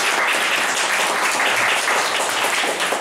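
A crowd at a lecture claps loudly to welcome a speaker, a thick, continuous roar of applause filling the room at an even level throughout.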